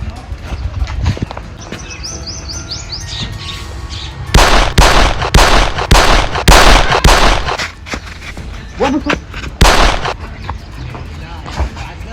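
Several loud gunshots crack in quick bursts, sharp and close, after a stretch of quieter background noise with hoof-like clopping.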